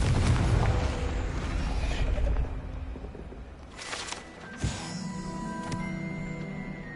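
Explosive blast from a Confringo fire spell in Hogwarts Legacy: a loud, dense rumbling burst at the start that fades into scattered crackles and debris, followed by a sharp pop around the middle and a lingering magical shimmer.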